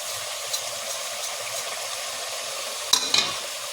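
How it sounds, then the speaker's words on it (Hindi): Ginger garlic paste and chicken frying in a pan for a white chicken dish, a steady soft sizzle with scraping stirs and a couple of sharp clinks near the end; no one speaks. "अब इसको अच्छे से चला के अदरक लहसुन का पेस्ट भून लेंगे अच्छे से"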